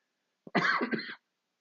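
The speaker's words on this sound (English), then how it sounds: "this cough literally just started today" A single close cough, short and throaty, starting with a small catch and then one rough burst, surrounded by silence.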